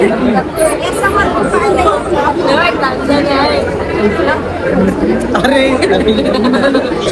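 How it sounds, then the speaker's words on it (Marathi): A loud, unbroken hubbub of many voices in a crowded temple queue at Dagadusheth, close and continuous, with one nearby speaker talking over it. "लय गर्दी आहे डेंजर"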